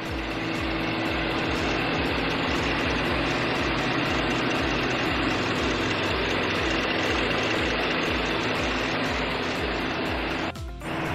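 A 2021 Mercedes-Benz Maybach GLS 600 engine idles steadily and loudly up close, a continuous low rumble with an even pulsing beat, briefly dipping near the end.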